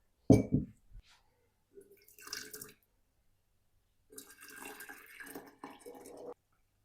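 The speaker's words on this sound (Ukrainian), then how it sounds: "І цим окропом заливаю цвіт липи." Boiling water is poured over linden blossoms for linden honey, heard as short, quiet splashing bursts separated by silence, with a longer pour near the end.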